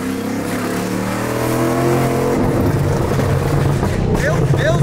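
A loud Ford Mustang engine rumbles at idle, then revs up into a steady, throaty drone that fills the cabin.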